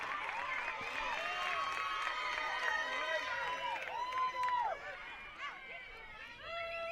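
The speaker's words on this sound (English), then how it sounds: "Throw in gets a bit of a yell from the crowd." A crowd at a women's college soccer match, Bobcats against Georgia College, yells and cheers during a throw-in, a loud burst of mixed voices and whoops that fades toward the end.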